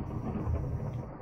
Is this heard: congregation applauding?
no